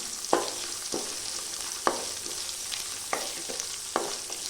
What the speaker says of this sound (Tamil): இது நல்லா வதங்கி வரட்டும். இந்த வெங்காயம் நல்லா வதங்கட்டும்.